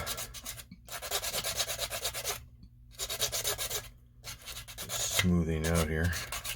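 A file rasps over a part of an Enterprise-B model build in repeated back-and-forth strokes with short pauses between bursts, close and fairly loud, before a brief spoken word at the end.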